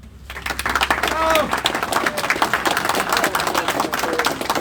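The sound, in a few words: applause at a farmers' meeting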